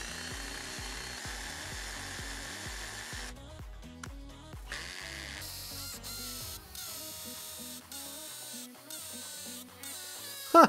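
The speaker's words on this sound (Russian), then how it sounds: "Зажимаю, включаю ударный режим." A DEKO 20V cordless impact drill-driver runs in hammering bursts, drilling concrete with a masonry bit, rattling rapidly, stopping and restarting several times at close range, with no one speaking.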